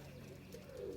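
Pigeons cooing by their coop on their third day out, a low, soft, continuous burbling coo, near and quiet, with no voices.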